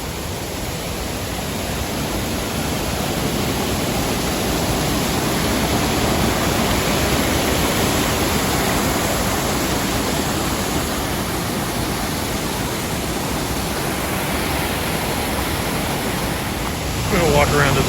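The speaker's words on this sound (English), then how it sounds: "So it sounds like we got a little waterfall." Water rushes steadily as a constant broadband roar from a small waterfall on Clifty Creek, Missouri, close and loud throughout.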